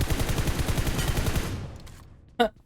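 Rapid automatic gunfire from the mobile battle-royale game PUBG Mobile, a dense burst of repeated shots for about a second and a half that fades out, followed by one sharp short blast.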